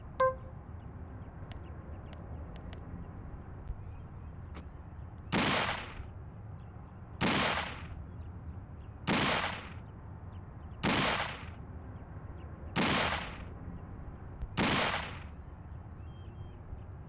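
Six evenly spaced, booming gunshot blasts, roughly two seconds apart, come from an infinite shotgun and machine gun in the video game Deadly Premonition, with quiet game ambience between shots.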